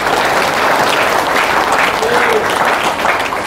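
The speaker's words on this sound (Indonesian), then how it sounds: "Tepuk tangan untuk polisi." An audience applauds for the police at an Indonesian religious talk, a loud, dense burst of clapping from a large crowd, sustained evenly across the moment with a voice faintly underneath.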